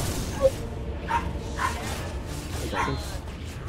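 Short dog barks from a video game match, a few quick yips over steady game background noise, moderately loud.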